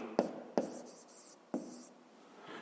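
Pen writing on paper while working a grade-5 maths exercise, heard as three sharp, close strokes or taps spaced about a second apart over a quiet background, with no talking.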